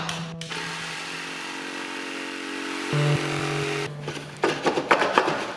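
A Dremel rotary tool fitted with a cutoff wheel whines steadily at high speed, its pitch dropping midway as it bites into the work, then breaking into rougher grinding bursts near the end, with no talking.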